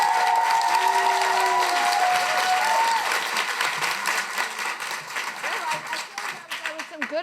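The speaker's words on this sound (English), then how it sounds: "Thanks for that cheering." Audience at a live awards event applauds and cheers for a presenter taking the stage, steady dense clapping that thins out toward the end, with voices mixed into the crowd noise.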